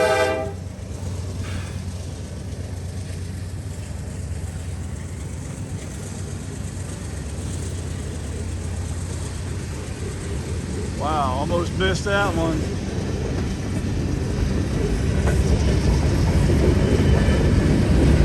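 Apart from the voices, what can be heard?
train passing with horn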